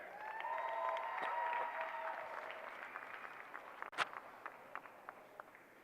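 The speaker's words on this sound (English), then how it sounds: "Give them a big round of applause while they get their picture taken" A crowd at the National Western Stock Show applauding the champion showmen, a faint distant wash of clapping that thins out into scattered claps and a sharp knock.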